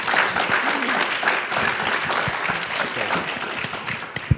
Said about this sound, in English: Please give a round of applause for our panel